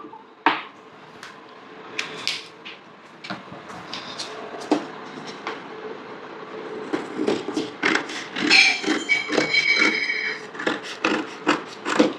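Cutting fabric for a cut-out neck pattern, with repeated crisp snips and rasping scissor strokes that grow busier toward the end, close up with no talking.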